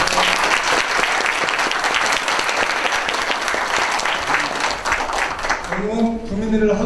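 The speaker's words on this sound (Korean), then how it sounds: "박수 한번 부탁드릴게요" Sustained audience applause fills a book concert hall in Changwon, dense and steady throughout, with a voice speaking faintly over it near the end.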